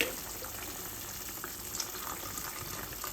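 Vinegar pours into a cooking pot of Filipino adobo made with chicken liver and gizzards, giving a steady soft liquid splash and trickle that runs throughout at low volume, with no talking.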